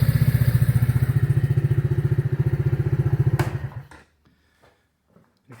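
A youth ATV engine idles with a steady, fast putter for about three and a half seconds, then cuts off abruptly into near silence with a few faint knocks after.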